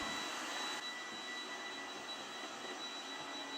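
A Cecotec Conga Eternal Pet robot vacuum cleaner runs in a kitchen, passing between chair legs. It gives a steady, quiet whirring hiss that continues unbroken on its own, with no talking.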